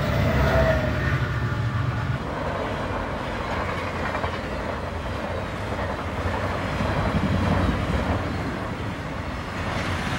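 A westbound intermodal freight train at Willow Springs Road rumbles steadily as it picks up speed across the prairie, a loud, continuous roar of wheels and wagons up close with no talking.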